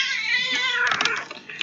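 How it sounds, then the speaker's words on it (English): A cat lets out a drawn-out, whiny meow close by, wavering and trailing off, with faint background noise. "Come here, cat."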